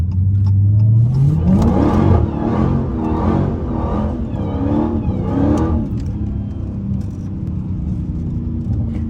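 A Dodge Hellcat SRT revs hard as it slides on a rain-soaked road, the engine note climbing in a loud rising sweep and then pulsing through several throttle blips before settling into a lower, steadier rumble.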